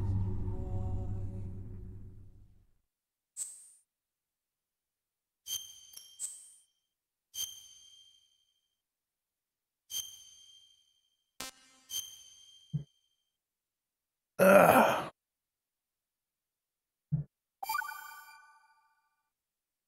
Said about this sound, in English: My phone's been going off like crazy.